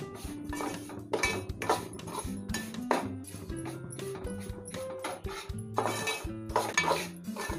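Semolina and fresh grated coconut roasting together in a pan for ravva laddu, stirred with a metal spoon: quiet, close scraping and irregular clinks against the pan, repeated in bursts with no voices.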